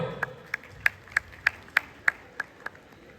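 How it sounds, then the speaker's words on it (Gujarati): Applause at a Navratri felicitation event, heard as about nine sharp, evenly spaced claps, fairly close and crisp rather than a full crowd roar, with no talk over them. "જોરદાર તાળીઓ"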